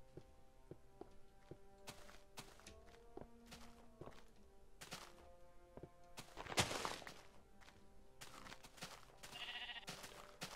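Blocky bleats from several sheep in Minecraft, scattered over soft thudding footsteps and steady background game music, with a brief louder burst of rustling noise partway through.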